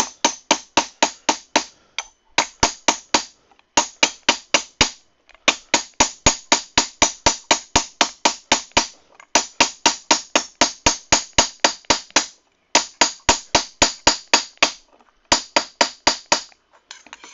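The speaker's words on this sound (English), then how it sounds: "use your ball peen hammer, use the peening side" Rapid, steady metallic blows of a ball peen hammer ring out planishing sheet metal in long bursts with brief pauses, close and loud, no talking.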